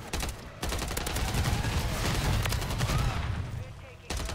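Rapid automatic gunfire from a Striker class loadout in Call of Duty: Modern Warfare 3, dense continuous bursts loud and close for several seconds, with brief pauses near the start and end.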